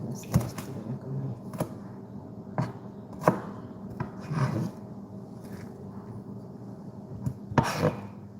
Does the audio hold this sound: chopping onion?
yes